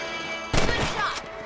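Gunfire from hunting rabbits in Red Dead Redemption, two or three sharp close shots in quick succession after a quiet ambient stretch, with a brief decaying tail.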